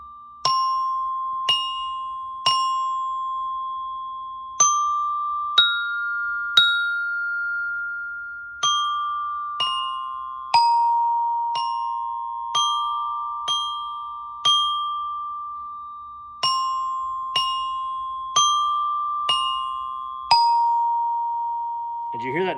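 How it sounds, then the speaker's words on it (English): Bright metallic orchestra bell tones struck with mallets one at a time in a steady melodic line, each note ringing clearly and decaying before the next, with no voices. "Did you hear that nice ring coming off the bells?"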